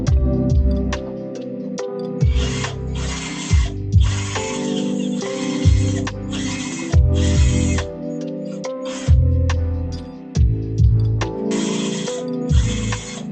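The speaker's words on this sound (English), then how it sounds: "As I extract countersunk heads, you can hear it in the material." A drill repeatedly bites into countersunk rivet heads in aircraft sheet metal, bursts of high grinding whine with ratcheting mechanical clatter underneath, loud and close, stopping and starting roughly every second or two.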